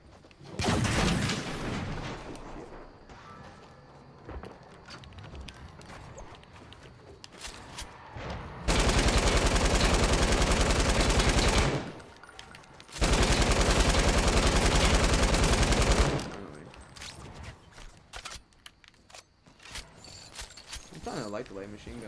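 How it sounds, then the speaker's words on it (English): Light machine gun bursts in Fortnite gameplay, two long sustained loud volleys of rapid fire lasting several seconds each, framed by quieter game sounds and talk before and after. "I like the light machine gun a lot."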